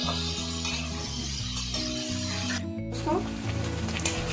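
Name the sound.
paneer frying in hot oil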